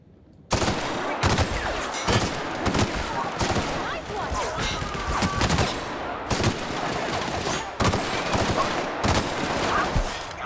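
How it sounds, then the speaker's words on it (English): Automatic weapons fire in the sci-fi shooter The Outer Worlds breaks out suddenly after a quiet start, then continues as dense, rapid volleys of shots with sharp bursts and brief pauses, loud and close, while voices speak underneath. "We have a lot of shooting to do"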